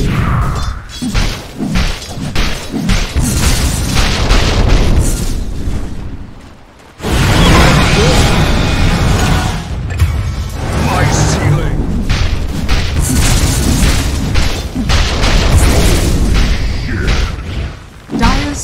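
Towers take fire during a Dota 2 match: loud, dense booms, crashes and impacts pile up almost nonstop, with one brief lull before the barrage resumes.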